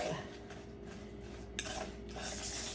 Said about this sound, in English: this is the crumble that you put on top of it. You stir it up, get it to like it's a crumbly